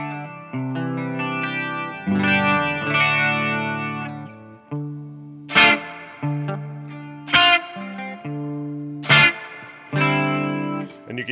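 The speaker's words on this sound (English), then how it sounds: "You can hear that reverb. That reverb tank sounds amazing" An electric guitar plays through the Amplified Nation Steel String Singer amplifier, sounding chords and sharp single notes with a lush reverb tank tail hanging after each attack, loud and up front.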